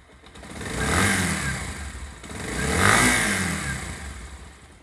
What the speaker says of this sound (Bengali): বাইকটার এখন সাউন্ডটা দেখুন